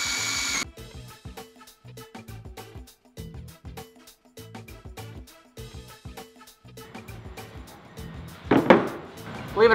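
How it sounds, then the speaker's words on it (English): A hand drill bores into an aluminum base plate in close, repeated short bursts with pauses between, ending in a brief harsh grinding rise. "that will guide my hand drill, hopefully pretty square"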